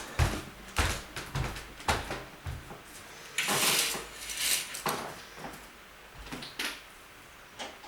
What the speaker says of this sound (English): I have to close this door.